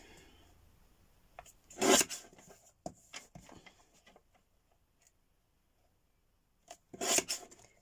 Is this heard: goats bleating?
no